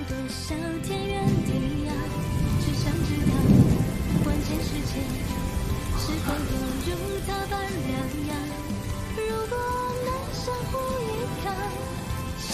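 Steady rain falls amid a thunderstorm, a continuous wash of rainfall with a rumble of thunder swelling near the start, under a bed of soft music.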